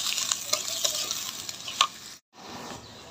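Onions fry in a pan toward brown for a hilsa fish jhura dish, giving a close, steady sizzle with faint stirring ticks, broken by a brief silent cut before the frying resumes.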